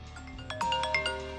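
A generic phone ringtone plays a short run of bright, bell-like electronic tones, a few quick notes rising over a faint background hum, moderately loud and brief.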